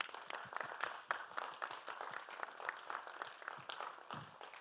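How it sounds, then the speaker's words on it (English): A conference audience at a regional women-in-data summit claps in a brisk, scattered patter of individual hand claps, fairly quiet and distant, lasting the whole moment without talk. "Let's give them a warm round of applause."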